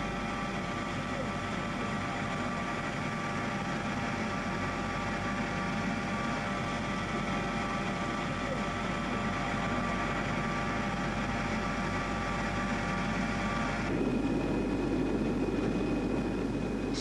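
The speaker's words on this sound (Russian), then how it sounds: "Самолет-носитель завершает свой перелет на полосе посадочного комплекса космодрома Байконур." Heavy carrier aircraft landing on the runway of the Baikonur cosmodrome landing complex, a continuous loud engine roar with a noticeable shift in tone partway through, someone narrating over it.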